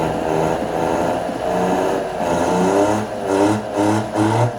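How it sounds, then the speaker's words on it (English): A 1968 boat engine with a cooling-water circulation fault revs unevenly as the throttle opens, a mid-pitched motor note surging and dipping in rough pulses, moderately loud and close, without speech. "so now I'll give it some throttle"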